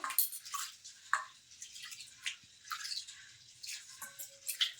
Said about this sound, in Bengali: প্রথমে সাবুদানাগুলো কিন্তু ধুয়ে নেবো জল দিয়ে